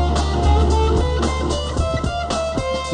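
Two-handed tapping on a 16-string guitar runs through a quick scale, dense overlapping notes ringing over a sustained low drone, played steadily and close with no talking.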